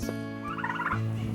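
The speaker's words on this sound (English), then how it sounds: "you can see we have some chickens and turkeys that kind of come in and do their thing" Turkeys gobble loudly and close by in a farm compost area where chickens and turkeys scratch, one rattling gobble call rising over a low droning background.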